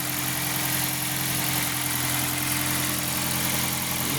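A freshly started engine runs steadily at idle, a loud, even drone with a low hum and a constant mechanical rattle, close by with no talk.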